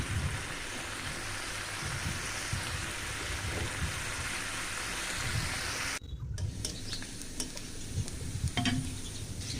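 Spices sizzling in hot oil while tempering dal, a steady loud crackling fry that fills the scene, with a short break partway through and sharper spits and pops after it, no voices.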